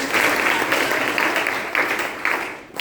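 Applause from an audience at a talk on festivals held in a village, dense steady clapping throughout that thins out near the end.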